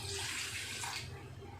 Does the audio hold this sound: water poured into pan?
yes